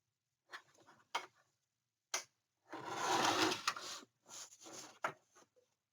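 A paper trimmer slices a thin sliver off paper in a few short close clicks and a longer sliding rasp, with quiet gaps between the movements and no talking.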